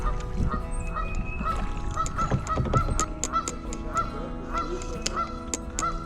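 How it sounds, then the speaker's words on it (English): Geese on the Newport River honk repeatedly in a loud, irregular series of calls, heard fairly close over soft low background noise. "Yeah, a couple geese up there."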